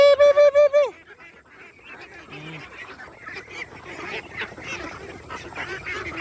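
Geese honk loudly in a quick burst of repeated calls, then a busy mix of farmyard fowl and duck chatter continues at a lower level, with quacks and shuffling throughout.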